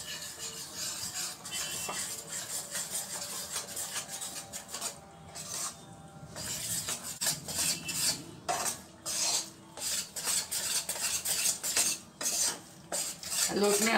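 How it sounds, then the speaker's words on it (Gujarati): Coarse gram flour roasting in ghee in a pan over low heat, stirred with a metal utensil that scrapes and clinks steadily against the pan, close up and without speech. "લોટને આપણે એકદમ ધીમા તાપે સરસ શેકી લેવાનો છે."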